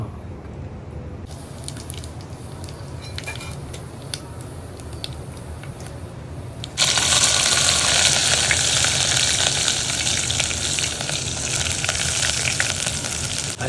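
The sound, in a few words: green chili, ginger, cumin, fenugreek, mustard seeds sizzling in oil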